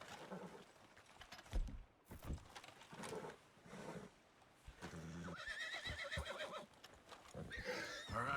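A horse in Red Dead Redemption 2 neighs loudly several times, with hooves clopping and other game sounds between the whinnies.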